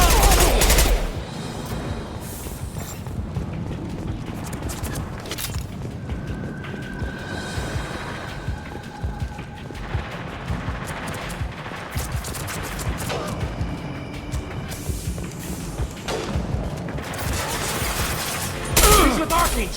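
Sustained gunfire in a Mass Effect 2 firefight on Omega, rapid bursts and shots layered densely and loudly throughout, with voices calling out amid the shooting.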